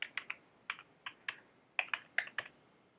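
Typing on a Mac computer keyboard, about a dozen crisp key clicks arriving in short bursts with small gaps between them, close by and with no voices.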